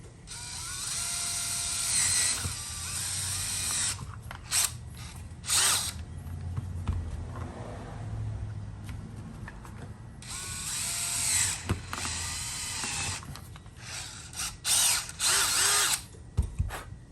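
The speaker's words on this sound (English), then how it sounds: "Now let's drill them." A power drill whirs in several high-pitched bursts, starting and stopping with short pauses and ratcheting clicks between runs.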